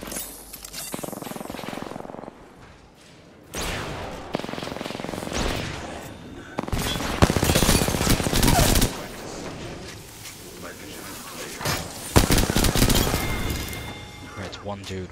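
Rapid automatic gunfire and explosive bursts in the Apex Legends video game, loud and dense in repeated volleys with short lulls.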